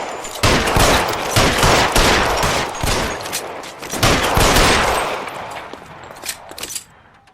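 Gunfire in the video game L.A. Noire: loud, close rapid volleys of shots crackling in dense overlapping bursts for several seconds, thinning out to a few scattered reports near the end.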